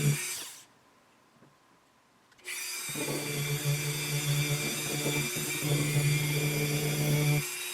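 A power buffer polishes the finish of a 1960s Truetone guitar. It spins up with a short burst, pauses to near silence, then runs a steady whining hum for several seconds, close and moderately loud.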